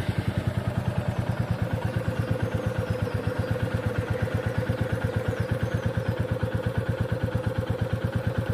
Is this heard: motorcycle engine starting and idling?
yes